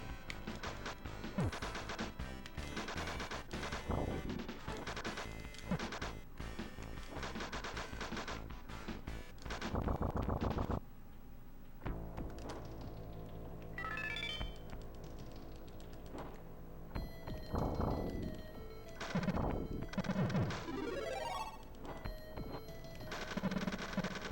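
Video game gunfire rings out in repeated sharp shots amid dense, busy game audio with music and effects, continuous and fairly loud throughout.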